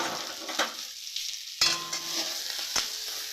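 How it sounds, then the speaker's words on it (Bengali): Dried fish stirred in a little light oil in a wok, sizzling softly with a few sharp scraping strokes of the spatula against the metal, close and steady. "এটাকে আমি একটু হালকা তেলে নাড়িয়ে নেবো"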